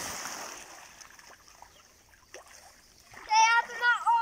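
Someone jumps into a backyard swimming pool, a short splash at the start fading into dripping water, followed by voices talking and shouting near the end.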